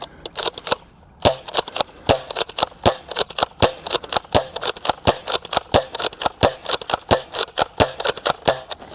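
A Dart Zone Aeon Pro X foam dart pistol fires outdoors in a rapid series of sharp, snappy pops, roughly two or three shots a second, each a crisp close-up crack with brief mechanical clicks between.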